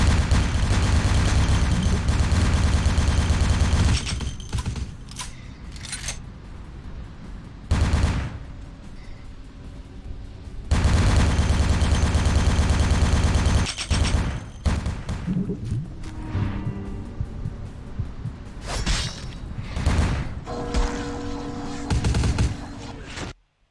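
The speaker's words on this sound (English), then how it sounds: "This assault rifle is not as helpful as I thought it would be." Assault rifle fire in the vampire video game Bloodlines, loud bursts of shots with booming blasts, stopping and starting in several long stretches with short quiet breaks between them.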